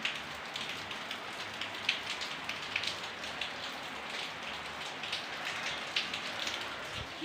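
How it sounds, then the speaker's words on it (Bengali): Steady rain patters down on surfaces outside a home kitchen, a dense, even hiss with scattered louder drops and no talking. "আবার বৃষ্টি পড়ছে, আবার বৃষ্টি চলে এসছে।"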